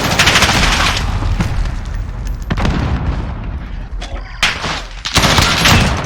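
Cruise missile strike during a Call of Duty Modern Warfare match, with loud booming impacts and bursts of rapid gunfire crowding together, sharp blasts at intervals over continuous battle noise.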